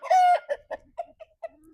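Hens cluck close by, with one drawn-out squawk followed by a series of short, evenly spaced clucks, clear and fairly loud against a quiet background.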